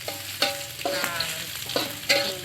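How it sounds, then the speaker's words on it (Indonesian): Shallots and garlic frying in hot oil in a wok for spiced green beans with tofu, a steady sizzle broken by repeated scraping stirs of the spatula, close and fairly loud, with a few brief spoken words. "masukkan bawang merah dan bawang putih. Goreng hingga wanginya keluar ya"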